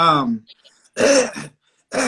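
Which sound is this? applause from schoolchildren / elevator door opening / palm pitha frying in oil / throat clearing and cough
throat clearing and cough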